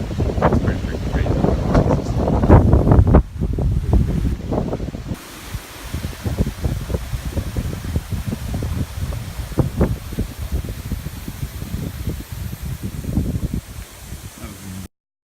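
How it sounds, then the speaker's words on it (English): Strong gusting wind buffets the microphone outdoors near the water in the aftermath of Hurricane Matthew, a loud continuous rumble with heavy rustling; a person talks over it early on. "you can see, it's very windy in the water."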